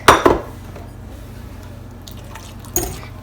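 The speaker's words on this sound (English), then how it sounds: "Now you're going to want to add your eggs, your milk," Eggs and milk dropped into cake batter in a mixing bowl: a couple of wet plops and clinks at the start, a quieter lull, then another splash and bowl clatter.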